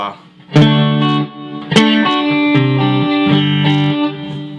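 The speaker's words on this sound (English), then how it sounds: "I like the reverb." Distorted electric guitar through a FlyRig 5 pedal rings out with a reverb tail, two strong strums followed by sustained notes and a few picked changes, loud and close.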